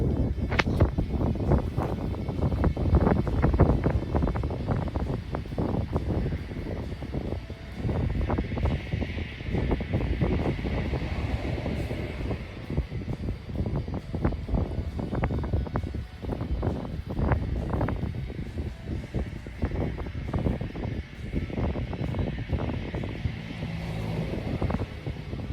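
Wind gusting across an open golf course near a pond, a continuous rough rumble and buffeting against the microphone, fairly loud and unbroken, with no talking.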